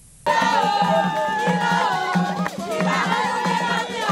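A large crowd of excited worshippers gathers outdoors in Yaoundé, Cameroon, cheering and shouting loudly and continuously, with many overlapping voices forming a dense roar throughout.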